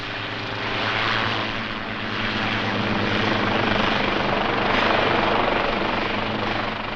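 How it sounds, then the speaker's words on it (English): Helicopter rotor and engine drone, steady and fairly loud, swelling slightly as it moves, with no voices over it. "If only I could get that helicopter over here."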